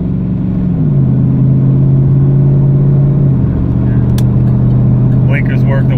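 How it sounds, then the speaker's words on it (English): Engine of a 1997 Pontiac Trans Am WS6 Ram Air droning loud and steady from inside the car as it accelerates, the pitch shifting as gears change, with faint clicks near the end. "The car's accelerating"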